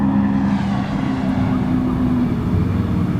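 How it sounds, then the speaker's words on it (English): Jet ski passing on the water, heard as a steady engine drone at moderate distance, loud and continuous with a slight shift in pitch as it goes by. "Somebody just went by in a jet ski."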